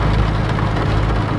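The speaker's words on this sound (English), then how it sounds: "Noisy rain." Heavy rain drumming steadily and loudly on a surface during a road trek across America, a dense continuous wash with no voices.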